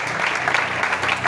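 A church congregation applauding to acclaim the Lord, a dense, steady patter of many hands clapping together in a brief continuous burst.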